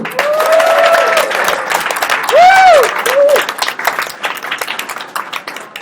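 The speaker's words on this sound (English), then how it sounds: "And y'all didn't applaud very good" Audience applause at a live startup product debate event, a crowd clapping steadily and fairly close, with whoops and cheering voices rising over the claps before the noise tapers off toward the end.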